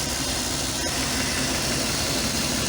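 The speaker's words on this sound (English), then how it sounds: "Engine's going." Replacement engine idling in a van being converted to a camper, with a slight misfire, a continuous close rumble with a faint irregular stumble.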